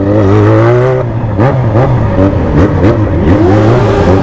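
A motorcycle engine revs repeatedly at a crowded lakeside spot, with rising and falling throttle blips close to the microphone, loud and continuous throughout with no speech.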